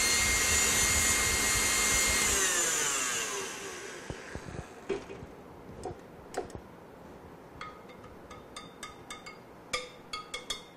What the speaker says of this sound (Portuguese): Vou bater só mais um pouquinho aqui, só para agregar todos os ingredientes e prontinho.